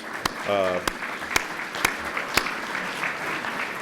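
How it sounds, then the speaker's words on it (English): Brief applause from an audience at a talk's coffee reception, a moderate patter of clapping with a few sharp louder claps, and a short voiced sound partway through. "If we could give a round of applause."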